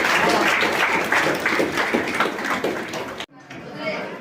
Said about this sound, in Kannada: ಎಲ್ಲರೂ ಚಪ್ಪಾಳೆ ತಟ್ಟುವ ಮೂಲಕ